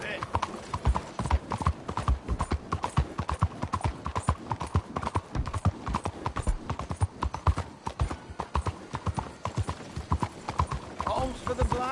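A horse's hooves clop steadily and continuously in a brisk, regular rhythm, close and prominent throughout, with voices occasionally heard beneath the hoofbeats.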